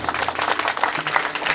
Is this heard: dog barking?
no